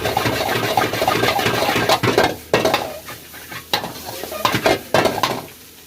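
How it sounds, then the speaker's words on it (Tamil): Fried rice with soya chunks tossed in a pan at a village street-food stall: loud, close sizzling with a quick series of metal ladle scrapes and clanks against the pan, bursts of activity separated by brief quieter gaps, no speech. "சோயாவை ஆட் பண்ணி நம்ம ரைஸ் நல்லா மிக்ஸ் பண்ணிடுறோம்."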